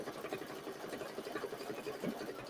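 A single-needle embroidery machine stitches a zigzag underlay for satin stitching on a mini-quilt, giving a soft, steady rapid needle patter at low volume.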